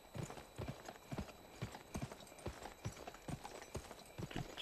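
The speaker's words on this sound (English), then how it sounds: "get back on your horse" Horse hooves clip-clopping in the video game Gun, a steady trotting rhythm of distinct, close hoofbeats about two per second, fairly quiet, with no talk over them.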